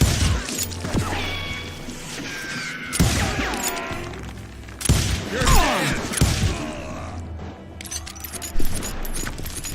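Gunfire from the Western shooter game Call of Juarez Gunslinger, several loud sharp shots with ringing tails scattered across the stretch over a bed of game music and effects.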